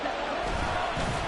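Stadium crowd in a Madden 24 football game cheering as 3rd and goal arrives late in the game: a steady, dense roar of many voices filling the whole moment without letup.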